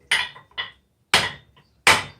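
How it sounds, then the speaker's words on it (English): Four sharp taps of a leather mallet on a wooden hammer handle, struck up close, irregularly spaced in two pairs, each crisp and quickly decaying, with silence between. "give the hammer handle a tap with a leather mallet"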